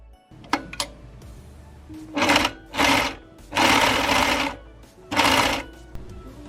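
A sewing machine top stitches fabric for a cheongsam (qipao) in several separate bursts of rapid mechanical whirring, close and clear, with clicks and short pauses between the runs.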